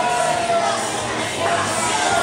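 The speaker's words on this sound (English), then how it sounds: "Listen to this crowd" A wrestling crowd at an indie show featuring Mad Dog and RBG against Draven and Vince Vile roars steadily, a dense wash of cheering and noise that stays loud throughout.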